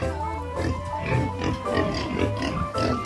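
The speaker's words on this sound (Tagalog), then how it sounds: "Tapos itong mga cute na mga baboy." Pigs large and small on a small farm grunting and snorting in a steady, close cluster of low calls, with pen noise around them.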